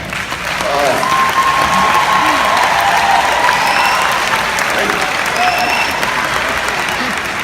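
A commencement audience breaks into sustained applause, a broad, steady wash of clapping with a few voices calling out over it.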